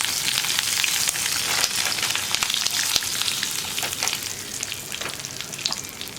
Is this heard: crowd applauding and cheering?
no